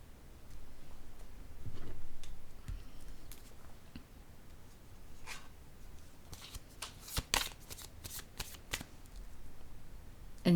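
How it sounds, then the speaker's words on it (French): Tarot cards are shuffled with soft riffling rustles, then laid down in a series of crisp, close flicks and taps. No one speaks. "Je vais déposer une carte sur le féminin."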